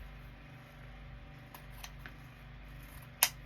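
Scissors snip once, sharply and close by, through ribbon being trimmed for a Christmas bow. The cut comes near the end, after a quiet stretch of low background hum.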